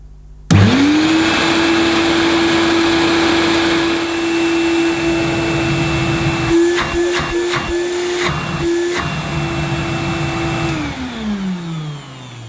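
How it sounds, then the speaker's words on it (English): Motor of a vintage 1970s Hoover Dial A Matic 1149 upright vacuum cleaner running with the agitator disconnected: a loud steady whine with airy hiss that starts abruptly, wavers briefly with a few clunks, then winds down at the end. "let's have a listen to what the motor sounds like without the agitator"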